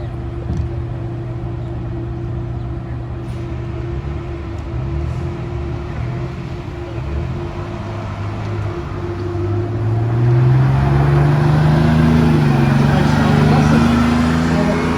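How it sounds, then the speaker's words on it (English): A vintage MCI D4500 commuter coach bus, formerly run by the Capital District Transit Authority of Albany, New York, pulls away with a steady low diesel drone that swells louder in the last few seconds. "MCI D4500 commuter coach, ex-Capital District Transit Authority from Albany, New York, owned and driven by Frederick Norwood."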